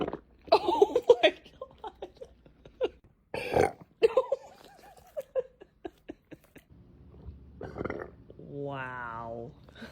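A golden retriever puppy lets out a drawn-out burp near the end, following a stretch where people chatter and exclaim close by.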